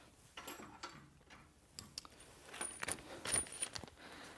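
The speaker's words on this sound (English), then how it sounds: "I'm going to grab an Allen wrench and my combination wrench." Metal hand tools, an Allen wrench and a combination wrench, clink and rattle as they are picked up in a garage, with several sharp metallic taps and jangles in a quiet room and no talking.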